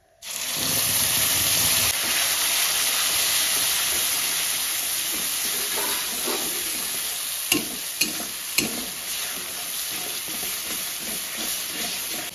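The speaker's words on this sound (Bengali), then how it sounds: "এখন ফোড়নে দিচ্ছি জিরে, শুকনো লঙ্কা, তেজপাতা, আদা, রসুন, পেঁয়াজ আর শুকনো লঙ্কা, জিরে বাটা" Cumin, dry chilies, bay leaf, ginger and garlic hit hot oil for a tempering, giving a loud continuous sizzle and hiss close by, with a few sharp clinks of stirring partway through and no talking.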